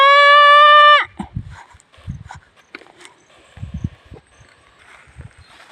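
A goat bleats once loudly and close in a farm pasture, a wavering cry lasting about a second, followed by scattered soft rustles, footsteps and faint background sounds.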